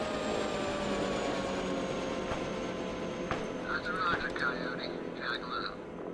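A steady engine drone with a thin high whine fills the clip, a helicopter hovering nearby in the video game Arma 3, with brief crackling bursts of small-arms fire toward the end.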